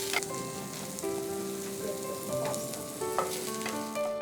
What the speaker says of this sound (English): Saute the onions for about 1 to 2 minutes